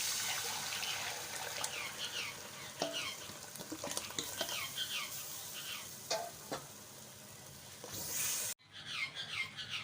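Water is poured and stirred into a besan and yogurt batter for curry pakora, a continuous splashing, sloshing rush with scraping stirs, close and fairly loud, ending abruptly before quieter stirring.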